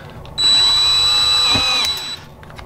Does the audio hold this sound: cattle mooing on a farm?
no